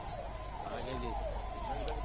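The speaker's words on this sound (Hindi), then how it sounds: "सायरन की गाड़ियां वो बज रही हैं।" Wailing sirens on the motorcade vehicles of Prime Minister Narendra Modi's convoy arriving at the Birsa Munda Museum in Jharkhand, several overlapping rising and falling tones over a steady crowd and traffic din.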